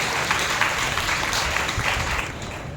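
Congregation in a church claps steadily as one dense, even wash of applause, loud and close, without talk, during a Sunday sermon.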